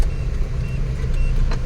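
A car being driven, a steady low engine and road rumble heard from inside the cabin, continuous and moderately loud with no speech over it.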